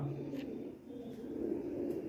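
A domestic Asmani Teddy pigeon coos in soft, low, rolling phrases, close by and fairly steady, with no talk over it.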